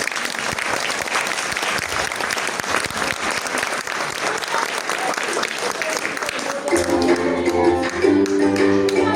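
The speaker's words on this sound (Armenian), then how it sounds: "ծափահարում եմ բոլորին" An audience breaks into loud, sustained applause of dense, steady clapping, close and continuous. A voice speaks over it near the end.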